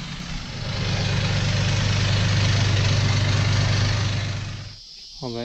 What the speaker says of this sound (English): I'm going to start using this leaf blower to blow my tractor and bush hog off when I get done.